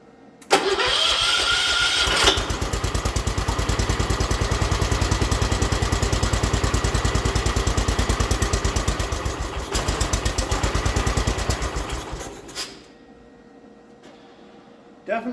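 Small engine of a restored 1979 John Deere 216 lawn tractor cranks and catches within about two seconds, then runs loud and steady with a fast, even chug for roughly ten seconds before shutting off into near quiet.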